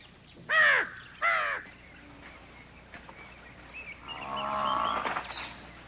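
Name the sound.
crow cawing in the morning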